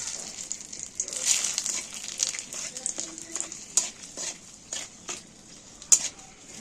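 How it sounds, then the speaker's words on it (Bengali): A bay leaf and a dried red chili dropped into hot oil for a fish roe curry give a steady crackling sizzle with scattered sharp pops, close and moderately loud. "তেলের মধ্যে একটা তেজপাতা আর একটা শুকনো লঙ্কা দিয়ে দিচ্ছি"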